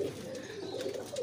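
Pigeons coo softly at a teacher's house, a low continuous warbling murmur of several birds, steady and moderately near with no talk over it.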